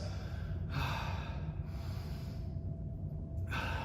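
Heavy breathing after a bodyweight HIIT workout circuit, a few deep audible inhales and exhales close to the microphone over a steady low background hum.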